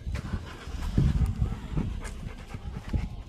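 A young golden retriever pants steadily and close by, in quick breathy bursts with a faint whimper, beside a self-converted camper van.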